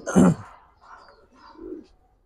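Small pigeons, a collection of Giribaz pigeons, give a few soft coos close by, one louder burst followed by two quieter calls in near silence.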